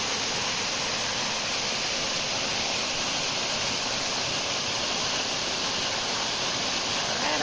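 Waterfall in a natural setting, heard as a steady, loud broadband rush of falling water that holds unbroken from start to finish, with no voices over it.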